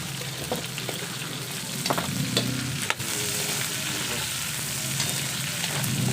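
Garlic and onion fry in a pan with a steady, close sizzle and crackle, while a utensil stirs and scrapes now and then with soft knocks against the pan.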